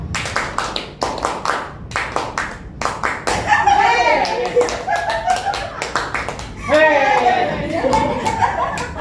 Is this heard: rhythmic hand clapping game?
yes